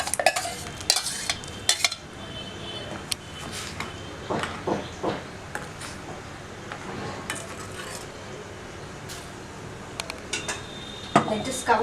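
Ground green masala paste being scraped into a pot of crab for crab green masala, with repeated spoon knocks and scrapes against the metal pot, some clattering, a faint simmer underneath and occasional talk.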